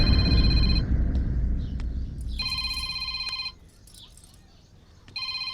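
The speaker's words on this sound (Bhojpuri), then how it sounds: "अरे ये तो दीक्षा का फोन फिर से" A mobile phone rings with a repeating electronic tone that starts, pauses, then resumes, heard over a noisy room where people talk.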